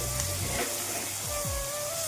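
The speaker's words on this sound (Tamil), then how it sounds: "நல்லா வதங்கட்டும்." Onions sautéing in a pan for a Tamil-style fish curry, a soft steady sizzle with faint stirring scrapes, close and quiet, with no voices.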